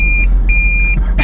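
A Toyota Prius reverse warning, a steady high electronic tone pulsing in regular beeps over a low engine and road hum.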